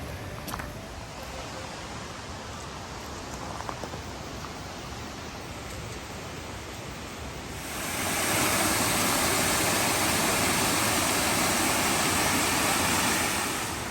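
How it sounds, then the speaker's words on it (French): Small roadside waterfall in Japan: a steady broadband rush of falling water, quieter and more distant at first, then swelling into a loud, close, continuous roar for the final six seconds. "On commence avec une petite chute d'eau."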